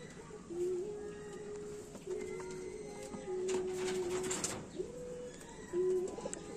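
A male Lalduma (Madrasi) pigeon coos in several drawn-out calls over a steady low background hum. The calls are moderately close and fairly soft, and no one speaks.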